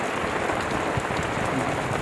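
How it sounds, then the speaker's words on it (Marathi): Rain falls steadily on a farm during the monsoon sowing season, a dense, even hiss of drops spread across the whole clip with no voices. "अशा पद्धतीने चालू आहे पाऊस चालू आहे"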